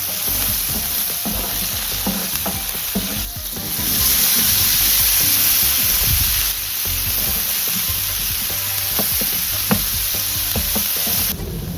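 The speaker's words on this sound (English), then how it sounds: "we're gonna add the onions and peppers right to it" Onions and peppers sizzle with chorizo and sofrito in a paella pan, a steady close frying hiss broken by scrapes and clacks of stirring throughout.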